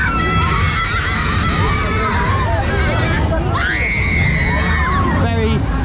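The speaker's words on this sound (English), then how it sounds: "Very, very loud. Screaming kids on that." Children scream on a ride at a funfair, shrill overlapping shrieks rising and falling over a constant loud crowd and ride noise, with a burst of higher screams near the end.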